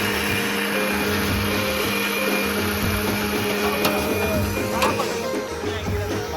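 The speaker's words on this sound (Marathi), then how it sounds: "भाऊ मिक्सरचं काम करायचं" A mixer grinder whirs steadily at close range, a continuous motor drone with a faint rhythmic pulsing, and a couple of brief clicks.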